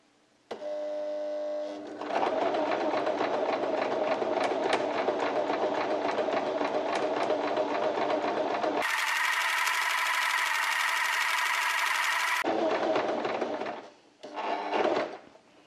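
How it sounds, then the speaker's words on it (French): A sewing machine runs steadily for several seconds as it stitches fabric, a loud continuous mechanical whir with rapid clatter, briefly rising in pitch midway, then stopping with a short final burst. "Je vais commencer à piquer plus ou moins rapidement."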